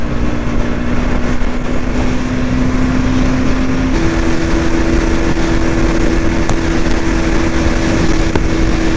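A Bajaj Pulsar NS200 BS6 motorcycle runs near its top speed of about 140, its engine holding a loud, steady high drone that steps up slightly in pitch partway through, with constant wind rush across the microphone.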